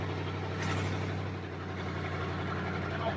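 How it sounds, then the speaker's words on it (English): A 1973 Pontiac Grand Am V8 gives a loud, steady engine rumble with a raspy, ticking exhaust note from a leaking exhaust manifold, idling or cruising close by without talk. "it's loud because the exhaust is leaking at the manifold"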